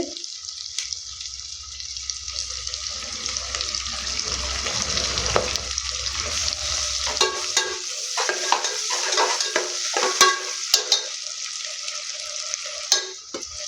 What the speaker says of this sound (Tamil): இப்போது இது கூடயே வந்து மல்லி, புதினா நல்லா போட்டு வந்து வதக்கிக்கலாம்.